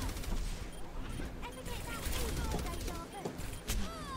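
Gunfire in the Overwatch video game comes as rapid bursts of shots and impacts under continuous talk, with game effects mixed in.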